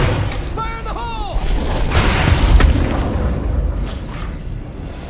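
A loud explosion from a thrown charge in the zombie survival video game State of Decay 2 booms and rumbles for several seconds, with a short whistling tone just before it and background game noise throughout.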